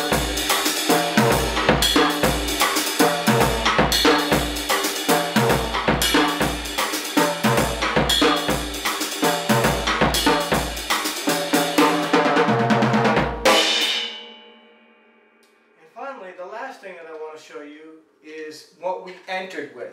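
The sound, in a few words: drum kit playing Latin groove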